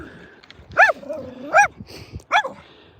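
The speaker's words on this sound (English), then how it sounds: "when he stops barking at me" A dog named Barney gives three loud, sharp barks spaced about a second apart, with a quieter whining tone between the first two.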